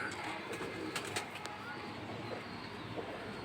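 Soft low cooing from pigeons, faint and partly buried in a noisy background, with a few brief sharp clicks early on.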